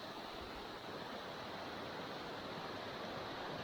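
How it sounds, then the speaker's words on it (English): Rain-swollen creek rushing steadily on a hay farm, a dense, even roar of flowing water with no pauses, moderately close and heard alone. "The creek is rolling."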